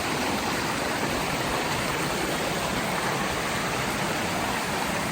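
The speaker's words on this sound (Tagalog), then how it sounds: "Ang daming tubig." Loud, steady rushing of a large volume of water, continuous broadband roar like a swollen stream or waterfall close by, with no talking over it.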